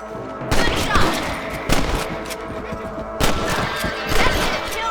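Several sharp rifle shots ring out in a Red Dead Redemption shootout against outlaws, one near 0.6 s, another near 1.7 s, then a louder cluster from about 3.2 s to 4.3 s, with a faint voice under the game noise.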